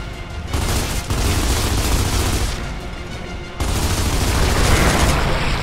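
Sustained, dense gunfire from the video game Gears of War 2, concentrated on an opening. The loud, continuous volley rattles almost without pause, dipping briefly near the middle before resuming just as heavily.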